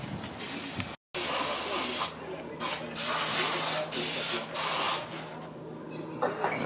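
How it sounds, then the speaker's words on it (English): Brake cleaner is sprayed onto the brake rotor of a 2017 Lexus GX460 in several bursts of steady aerosol hiss, each lasting about a second, with brief gaps between them. "put a little brake cleaner on here, get everything nice and clean"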